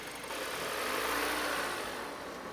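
After warming up, a car engine is held at about 2500 rpm for an alternator charging test, making a steady, even engine roar with no talking.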